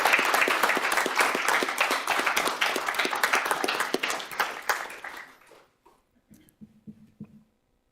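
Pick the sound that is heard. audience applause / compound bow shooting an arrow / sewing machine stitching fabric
audience applause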